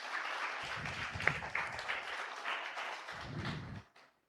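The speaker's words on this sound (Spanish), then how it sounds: "démosles un buen aplauso también porque se lo merecen" A congregation applauds during a Mother's Day church service, steady dense clapping filling the space with two stronger bursts, fading out near the end.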